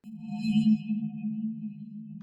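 A soft, sustained synthetic tone, a processed magical water-spell effect made with the Uzu plugin, hums steadily with a faint shimmering upper layer that wavers slightly, fading in quickly and holding throughout.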